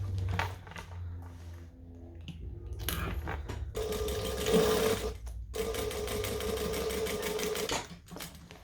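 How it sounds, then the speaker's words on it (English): Sewing machine stitching a bag seam with backstitching at both ends, running in several bursts of steady mechanical whirring and needle clatter, separated by brief pauses and close to the listener, with no speech. "Making sure that we backstitch at both ends to lock it in."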